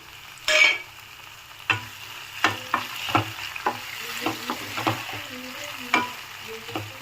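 Chopped tomatoes added to onions for tomato bath sizzle gently in a pan, with a series of sharp spoon scrapes and stirring knocks at an irregular rhythm, close and clear.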